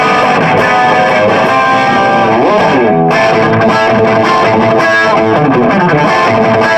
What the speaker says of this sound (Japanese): EQ をフルテンに、ボリュームをフルテンに、こんな感じで弾くと結構音量出るんですよ。